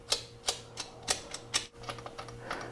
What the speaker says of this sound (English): So we'll loosen these adjusters off.